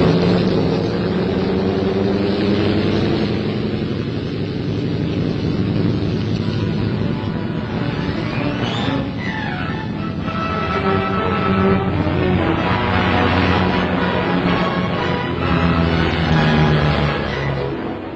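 RAF Washington bombers, the British name for the B-29 Superfortress, drone steadily with a loud continuous roar of piston engines that holds for the whole stretch without a break.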